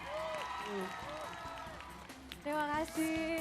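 A live TV variety-show studio crowd applauds for a singer, a soft patter of clapping running under hosts' talk and bright background music.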